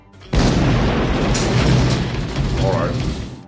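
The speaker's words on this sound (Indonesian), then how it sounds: "Pertama, mereka menembakkan cerawat." A cannon on the battleship USS Missouri fires a flare in a film scene, a sudden loud boom followed by a sustained rumbling roar with mechanical clatter, with voices underneath.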